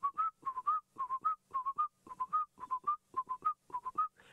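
A person whistles an imitation of a black-collared barbet call, repeating a quick bouncing phrase of three or four notes in a steady rhythm, clear and close.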